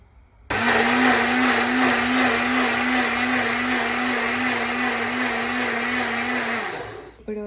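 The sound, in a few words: blender grinding avocado juice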